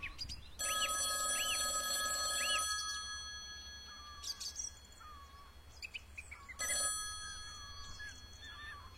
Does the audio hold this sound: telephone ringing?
yes